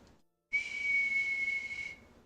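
A person whistles one sustained, steady high note, clear and close, imitating a train whistle after a brief quiet pause.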